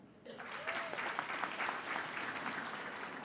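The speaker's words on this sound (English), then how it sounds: "Can you applaud them?" A graduation audience applauds in a sustained, dense burst of clapping that holds steady throughout.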